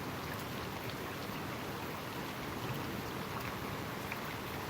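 Steady, dense rain at night in Dhaka, a constant even hiss of falling water with no pauses or voices, close and moderately loud throughout.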